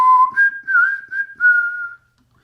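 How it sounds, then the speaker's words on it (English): A person whistles a short, clear tune of several sustained and sliding notes, close and loud, then stops into silence. "I can whistle."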